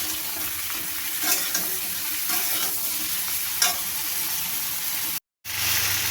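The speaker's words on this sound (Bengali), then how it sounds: "এবার নুন দিয়ে ভালো করে এটাকে সমস্ত সবজিগুলোকে ভালো করে ভেজে দেবো একদম লাল করে।" Salted vegetables sizzle steadily in a pan while a spatula stirs and scrapes them, making occasional louder knocks. The sound cuts out briefly near the end, then the frying resumes.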